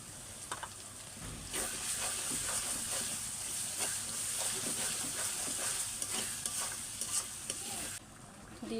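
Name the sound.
duck meat spices frying in a pan on a clay stove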